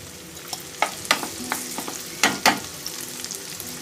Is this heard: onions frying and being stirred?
yes